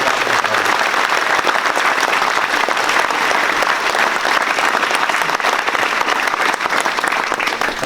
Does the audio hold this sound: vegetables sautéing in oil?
no